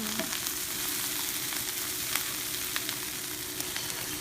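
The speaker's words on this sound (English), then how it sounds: "We're going to saute these for about 4 or so minutes just to get them nice and" Chopped bacon and shallots sautéing in a pan, a steady close sizzle with faint crackles and light stirring ticks throughout.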